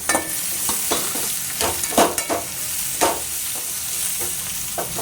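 Chopped tomatoes frying in a pan for a ridge gourd peel chutney, with a steady sizzle under repeated scraping stirs of a spoon at an uneven rhythm, close by.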